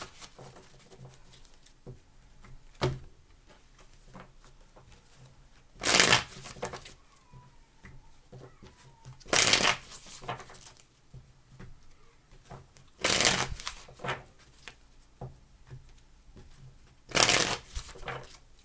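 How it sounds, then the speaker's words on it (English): Tarot cards being shuffled by hand in four brisk bursts spaced a few seconds apart, close and fairly loud, with quiet pauses between. "Last shuffle, please."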